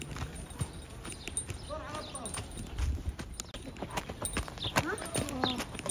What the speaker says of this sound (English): This is my donkey. I'm on a donkey. It's pretty slow.